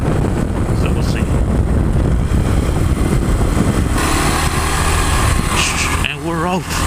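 A 2026 Kawasaki KLX 230 DF dirt bike setting off, its engine droning loud and steady with heavy wind buffeting the microphone throughout, and a brief engine rev rising near the end.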